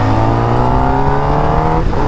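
A Kawasaki ZX10R motorcycle engine roars loud and close at high, steady revs on a ride along ECR, its tone climbing slightly before a brief shift near the end.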